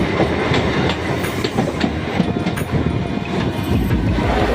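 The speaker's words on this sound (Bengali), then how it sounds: "অনেকদিন পর আবার একটা লোকাল ট্রেন জার্নির অভিজ্ঞতা নিয়ে চলে এসেছি" A local train runs on tracks between Sealdah and Bolpur, a loud, continuous rumble with rhythmic wheel clatter, heard from inside the carriage with no talk.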